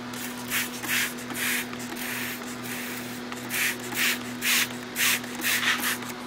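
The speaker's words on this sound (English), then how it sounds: "I'll spray some degreaser in there and let it eat my grease." Purple Power degreaser is sprayed onto greasy goped parts in short hissing bursts, several quick sprays in an irregular rhythm over a steady low hum, close by and fairly loud.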